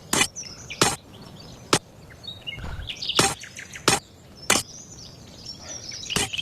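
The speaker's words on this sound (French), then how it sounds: "Les oiseaux ils chantent très fort." Birdsong in the video game Colony Survival: loud chirps and whistled phrases come through close, broken up by several sharp broadband clicks or knocks at irregular intervals.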